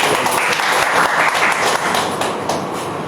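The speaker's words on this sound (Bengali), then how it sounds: "আমরা একটু হাততালি দিয়ে আবার" An audience claps at a launch festival for three Bengali books. The applause is loud, dense and continuous, with no speech over it.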